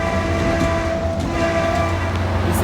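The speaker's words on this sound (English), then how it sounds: "I'm taking the Cal train down to San Jose." Caltrain passenger train in San Francisco, a loud, close, continuous rumble of the train with tonal horn-like hum and faint rhythmic rail clatter, no voices.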